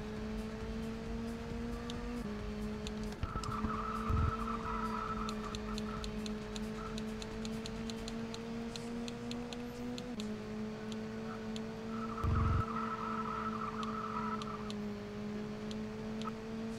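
A Fiat race car in the racing game TOCA WTC drives steadily through the whole stretch at Catalonia, its engine note holding a continuous hum, with a couple of brief bumps partway through.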